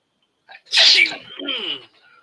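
One loud, close sneeze bursts out sharply and trails off quickly, followed by a brief murmur.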